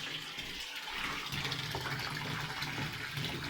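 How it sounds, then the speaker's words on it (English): Water gushes steadily from a tap into a filling bathtub, a continuous broad hiss with no pauses. "I'm just running a bath."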